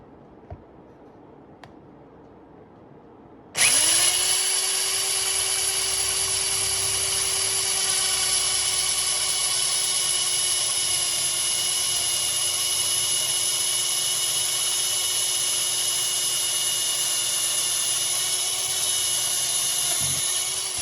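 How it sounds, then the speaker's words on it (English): A loud, steady high-pitched power drill whine drilling holes in wood starts abruptly after a few quiet seconds and runs continuously to the end, close and sustained. "I can use a bigger bit drilling 90-degree holes"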